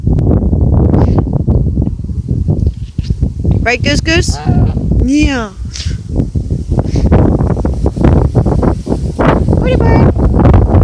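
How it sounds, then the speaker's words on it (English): Strong wind blowing outdoors in cold weather around a pet goose, a steady loud roar buffeting the microphone throughout, with people talking over it. "Look at how windy it is."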